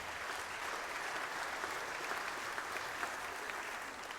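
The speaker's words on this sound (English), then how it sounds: "So big round of applause for all the arts here in Brevard." A concert audience in Brevard County claps for the local arts, a steady wash of applause at moderate distance, fairly soft and even, with no speech.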